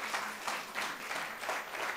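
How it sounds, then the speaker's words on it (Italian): Faint applause at a literary prize ceremony in Olbia, 2018, heard as soft pulsing waves of clapping from an audience held at a low, distant level. "invito anche voi di fare un forte applauso"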